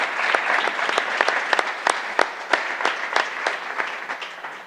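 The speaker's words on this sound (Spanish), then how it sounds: "un aplauso para María y para la asociación" An audience at a leadership talk applauds for a woman and her association, dense steady clapping from many hands in a hall, lasting several seconds with a few sharper claps standing out.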